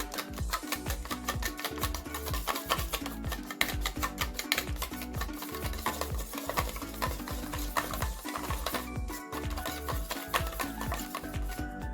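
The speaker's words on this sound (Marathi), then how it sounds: "ते अंडा आता छानपैकी फेटून घ्यायचंय" Eggs seasoned with salt being beaten briskly in a bowl for egg paratha, a fast, steady rhythmic clatter of utensil strokes running throughout, close and even.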